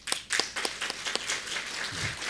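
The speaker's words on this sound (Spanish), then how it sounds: "Ya, para ustedes, aplauso también." Short burst of audience applause at a Sunday church service, scattered claps building into a steady patter that thins toward the end, moderately loud and fairly close.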